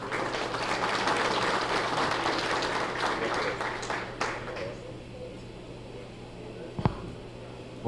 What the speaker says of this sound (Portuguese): nossa salva de palmas nessa manhã